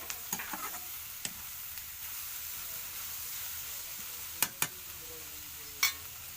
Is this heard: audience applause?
no